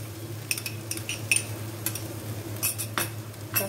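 A spoon clinks against a bowl as red chilli, black pepper, white pepper, Ajinomoto and chilli sauce are stirred together, with light irregular scraping and tapping close by and no talk.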